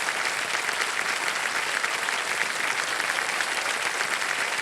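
A studio audience on the set of the Hindi quiz show Kaun Banega Crorepati applauds a contestant who has just won 5 lakh rupees, with steady, dense clapping that holds at an even level throughout and no voices.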